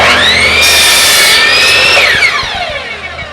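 A miter saw cuts through wood up close: a loud, rising motor whine, a sustained high-pitched cut, then the pitch falls as the blade spins down, all within a few seconds and with no talking.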